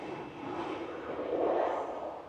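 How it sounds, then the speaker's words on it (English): A Ryanair jet rolls for takeoff at Manchester Airport, its engines a faint, steady distant roar that swells slightly midway. "Ryanair to Oslo in front of us is rolling now"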